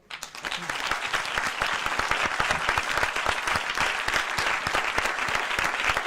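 Audience applause after a debate on education: steady, dense clapping from a large listening crowd, close and lively, rising quickly and continuing evenly for several seconds with scattered individual claps audible.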